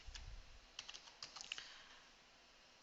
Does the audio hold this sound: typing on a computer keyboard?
yes